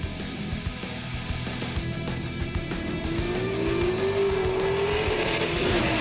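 A race car powers hard out of a corner, its engine note climbing steadily in pitch as it accelerates, loud and close, with a brief tyre squeal.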